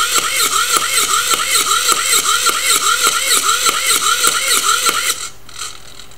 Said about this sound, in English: It's a sort of leave me alone machine, but a bit different.